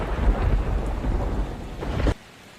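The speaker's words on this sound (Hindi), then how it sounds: "तूफान और तेज हो रहा है।" A thunderstorm rumbles with heavy, steady rain, a loud broadband roar that holds for about two seconds and then cuts off abruptly to quiet.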